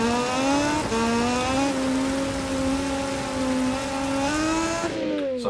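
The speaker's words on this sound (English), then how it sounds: "these bikes sound really different with the Triumph engines now as well" Triumph-engined racing motorcycles in the MotoGP 2020 video game, a steady high-pitched engine whine holding near-constant revs, with small pitch steps at gear changes and a brief drop near the end.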